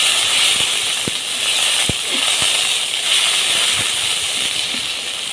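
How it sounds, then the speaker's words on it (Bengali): Water poured into a pan of frying onions for a bacha fish bhuna, bursting into a loud, close hiss and steamy sizzle with a few sharp crackles and pops scattered through. "এর মধ্যে আমরা একটু পানি অ্যাড করব।"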